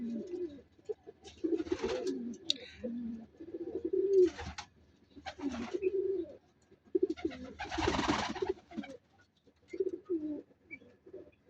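Egyptian pigeons cooing nearby, a series of low rolling coos in separate bursts with pauses between, plus a brief flutter or rustle partway through.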